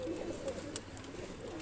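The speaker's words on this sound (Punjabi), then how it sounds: "ਇਹ ਕਬੂਤਰ ਆ ਜੀ।" A pigeon of the Ferozepuri blue-eyed breeder line coos softly a few times, fairly close, against a low background hum with no talking.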